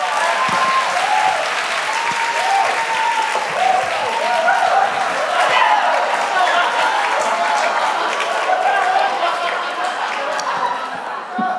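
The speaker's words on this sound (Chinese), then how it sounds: "我们就拍手来欢迎纸片人迅镇牧师" A church congregation claps steadily to welcome a pastor, the applause full and continuous for several seconds with a few voices and murmurs mixed in.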